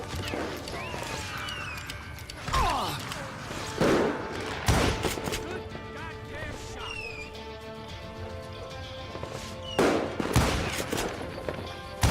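Gunfire in the Western shooter Call of Juarez: Gunslinger, with several sharp shots and bursts spread across the stretch over a busy background of game music and effects, loud and close.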